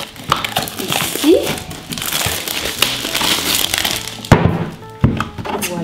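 Plastic and paper packaging crinkles and crumples as a Cricut Mug Press is unboxed, a steady rustle running for several seconds with a couple of sharper handling knocks near the end.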